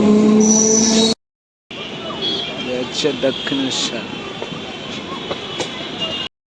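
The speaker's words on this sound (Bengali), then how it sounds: "আর এটা হচ্ছে আমাদের ট্রেন চলে যাচ্ছে এখন" A train rumbles and rattles steadily nearby as it departs Dakshineswar station, with a short announcement-like voice at the start and a brief cut in the sound.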